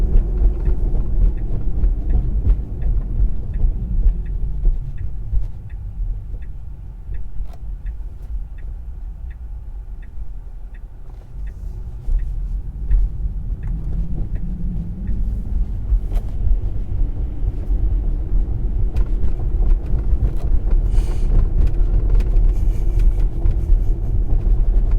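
A Tesla on FSD Beta 10.8 drives itself along side streets, heard from inside the cabin as a steady low road rumble and tire noise with faint ticking, continuous with no talk.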